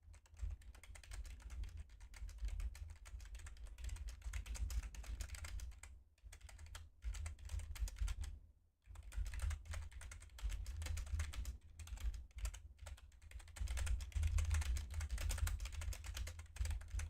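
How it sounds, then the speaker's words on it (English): Fingers type on a computer keyboard in a close, steady clatter of keystrokes, broken by a few short pauses and one longer gap, with no one talking. "You guys capable of hearing my big typing that I do?"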